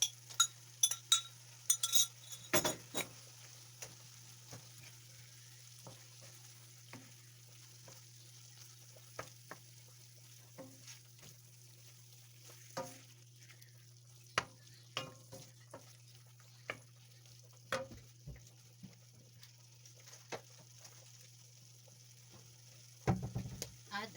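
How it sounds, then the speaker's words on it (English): Shrimp sizzle faintly with ground turkey in a frying pan, a soft steady crackle broken by scattered clinks and scrapes of stirring; no talking. "We're gonna add our shrimp."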